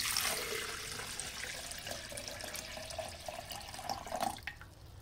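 About 1.5 litres of water pours steadily into a kitchen blender jar as marinade is made for a butterflied traíra fish, a continuous close rushing splash with no talking.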